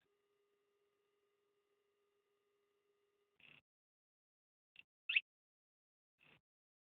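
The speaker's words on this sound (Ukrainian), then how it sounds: "сигнал на відео може бути нечітким, але він дуже такий пискливий, як кажуть." An FM2v2 metal detector pinpointer gives short, high-pitched beeps, four brief chirps spaced over a few seconds after a faint steady hum, the third beep loudest, otherwise near silence.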